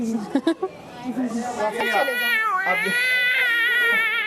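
A cat gives a long, drawn-out, wailing meow up close, following a few short sounds at the start; it is loud and insistent.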